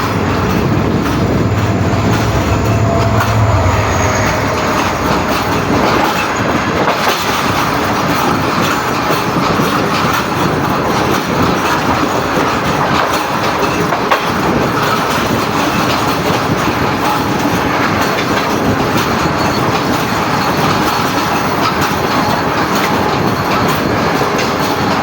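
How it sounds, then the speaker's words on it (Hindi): The Shalimar Express pulls into Multan Cantt station, a steady loud rumble of rolling rail cars with rhythmic wheel clatter and faint squeals carrying on continuously for the whole stretch. "27 अप शालीमार एक्सप्रेस 5 घंटे लेट पहुंच रही है मुल्तान कैंट"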